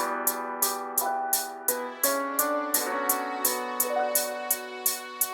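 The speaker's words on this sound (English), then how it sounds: "I have 3 different hi-hats layered" Three layered hi-hat patterns in an old-school FL Studio beat tick in a steady, busy rhythm over a looping melodic backing, crisp and up front with no voices.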